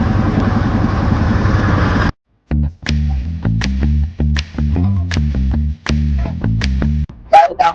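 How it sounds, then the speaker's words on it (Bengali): A boat engine runs as a passenger boat pulls away on a trip through the Sundarbans from Khulna. A steady loud drone gives way to a choppy, pulsing chug broken by brief gaps. "নৌকা ছেড়ে দিল"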